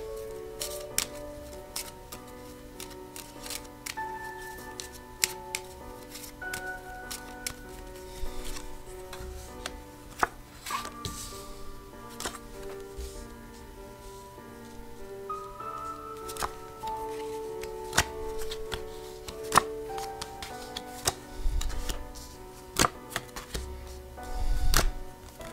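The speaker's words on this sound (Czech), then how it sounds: "A já si tady nejdřív rozložím kartičky" Tarot cards being laid out on a table during a reading, with soft repeated taps, clicks and card slides spread across the clip, close and moderate, over a steady background of soft tonal music.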